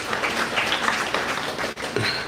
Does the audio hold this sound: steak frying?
no